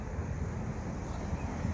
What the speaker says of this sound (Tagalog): Mas ng hangin. May hangin.